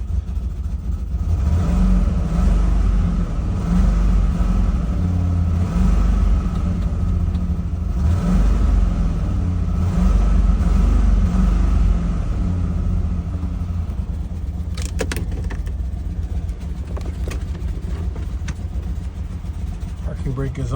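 A 2008 Ford Expedition in neutral revs up to its rev limiter, a loud sustained engine roar that holds near the limit before easing slightly, with a person talking over it.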